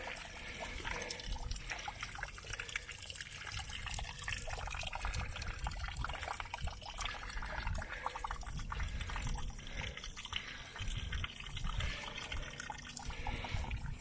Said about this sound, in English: Can you guys hear that? Following this little trickle here.